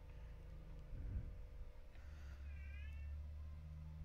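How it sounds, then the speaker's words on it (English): A house cat meows once or twice, fairly faint and brief, over a low steady background hum with no talking. "And the cat meowing."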